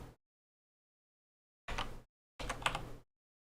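Two short bursts of typing on a computer keyboard, quiet clicking keys separated by silence, alone and close.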